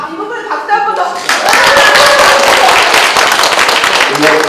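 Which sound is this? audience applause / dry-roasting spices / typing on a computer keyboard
audience applause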